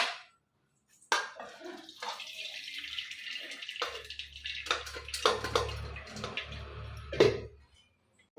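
Water pours and splashes out steadily for several seconds as it is drained from cooked lentils, close by, with a few drips trailing off at the end.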